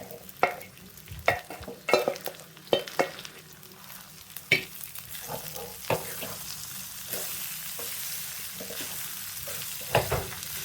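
Cooked rice tipped into a pan of vakkaya pulihora and stirred, repeated scraping and clattering spoon strokes over a continuous low sizzle, close and without talking.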